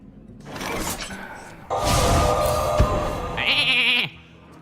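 Sheep in the Hearthstone video game give a couple of bleats amid game sound effects: a stretched, wavering bleat rises over a shattering clatter, then a higher bleat follows before it cuts off.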